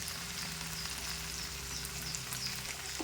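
Turmeric, cumin and salt sautéing in oil as a spice masala for a mutton and pointed gourd curry, a steady crackling sizzle running evenly throughout at moderate level with faint low hum beneath.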